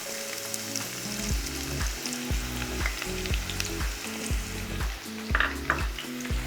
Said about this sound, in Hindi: हमारी प्याज हल्की से हम इसको फ्राई करेंगे